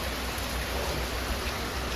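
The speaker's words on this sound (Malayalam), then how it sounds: "നല്ല മഴയാണ് കേട്ടോ പുറത്ത്" Heavy rain falls steadily outside, a dense, even hiss of downpour on surfaces that holds at a constant level throughout with no voices.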